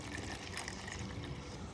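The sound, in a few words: water being poured over papaya seeds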